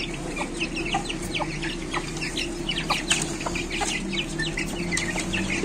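Chickens cluck and chirp in a busy, overlapping chorus close by, over a low steady background hum.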